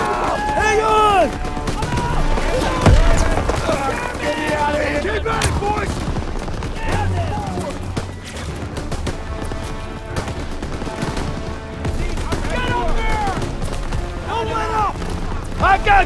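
Machine gun fire and explosions sound in a Call of Duty WWII battle, with dense continuous bursts of gunfire, booms and shouting voices throughout.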